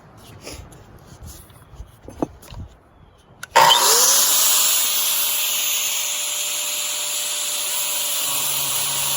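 An angle grinder switches on with a sharp jolt and spins up, then holds a loud, steady high-pitched whine for several seconds, following a few quieter handling knocks.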